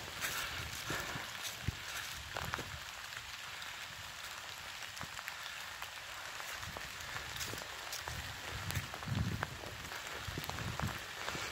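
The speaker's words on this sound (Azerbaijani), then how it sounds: "Yaxşı yağış yağır." Rain falling steadily outdoors near a village fortress, a dense even hiss with scattered drips and patters, fairly soft and continuous throughout.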